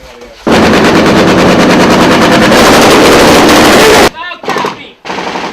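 Heavy gunfire erupts in a Marine firefight against a Taliban ambush, with 60mm mortar fire in the mix: a loud sustained burst of rapid shots, then a brief pause and more staccato bursts, with a voice briefly audible.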